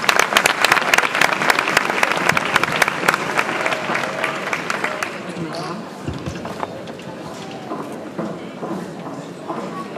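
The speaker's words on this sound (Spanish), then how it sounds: "ese fuerte aplauso" Audience applause for a singer at a live show, loud dense clapping at the start that thins and fades over several seconds, with a presenter speaking over it.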